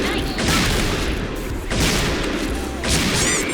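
Gunfire in the PUBG video game, with Kar98k and sniper rifles, sounding as several loud booming shots and crashes over a busy game soundscape, close and dense.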